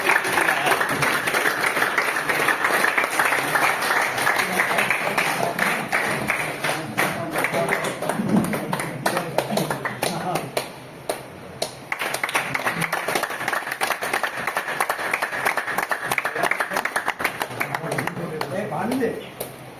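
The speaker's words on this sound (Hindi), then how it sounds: "तालियां बजती रहे।" Audience applause at a welcome ceremony for newly elected office bearers of a pensioners' society, a steady dense clapping that fills the whole stretch with some voices mixed in.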